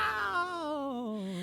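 A person playing a gnome wizard's cuddly little cat companion imitates a single drawn-out meow, a close, clear voiced cry that slowly slides downward in pitch.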